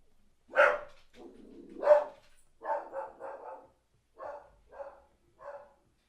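A dog barking in the colony game RimWorld, two sharp loud barks followed by a low growl, then a quick run of several shorter barks and a few spaced yaps, close and clear with no talking.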